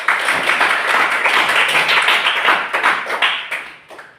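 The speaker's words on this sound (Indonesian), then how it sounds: "kita tepuk tangan untuk kita" A classroom of students claps their hands together, a loud, close burst of rapid, overlapping claps that stays busy for a few seconds and then fades away at the end.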